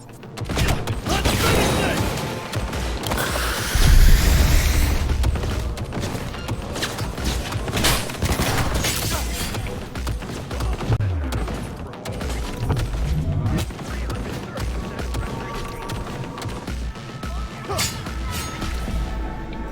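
Gunfire and impacts in the futuristic open-world game Cyberpunk 2077: repeated loud sharp shots, crashes and mechanical clanks scattered across a busy soundscape, with a voice talking over it.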